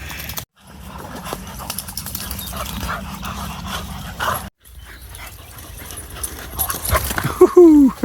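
A dog named Bumble plays in water on a warm day, with splashing and scattered yips and whimpers, brief gaps of quiet, and a sharp high whine near the end.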